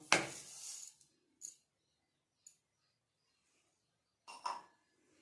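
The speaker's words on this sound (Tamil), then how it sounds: "இது வந்து கல்கண்டு போடுறேன் இப்போ இதை கல்கண்டு இதில் போட்டுடலாம்" Pieces of rock sugar candy drop into a pot of pongal, making a few sharp, quiet clinks and rattles spaced apart by silence, the first and last bursts slightly longer.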